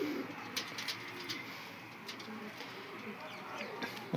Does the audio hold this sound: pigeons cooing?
yes